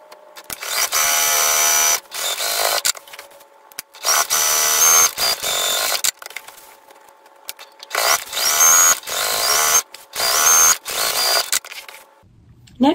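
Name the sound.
sewing machine basting sides and bottom of a laptop bag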